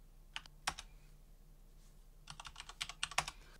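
A password is tapped out on a computer keyboard in two quiet clusters of quick, crisp keystrokes, with a short pause between them.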